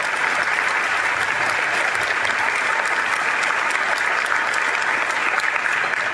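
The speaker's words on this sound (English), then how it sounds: "A round of applause for yourselves." Sustained applause from a large cinema convention audience, a dense steady wash of clapping at full level for the whole stretch with no pauses.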